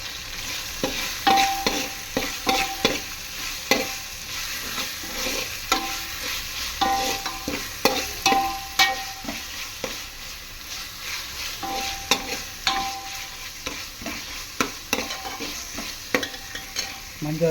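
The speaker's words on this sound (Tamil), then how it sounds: "மஞ்சாத்தூள் போட்டு கொஞ்சம் வதங்கின உடனே" Ginger, garlic and turmeric sauté in a pan for drumstick biryani, with a steady sizzle broken by repeated scraping strokes of a spatula stirring close by; no voices.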